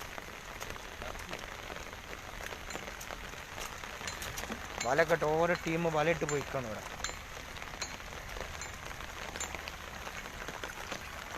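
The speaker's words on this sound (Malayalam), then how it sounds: "മഴ അങ്ങനെ ഉഷാറായി വരികയാണ്" Rain falls steadily on paddy fields at Kooriyad in Malappuram, a constant broadband hiss that carries on the whole time, with someone speaking briefly near the middle.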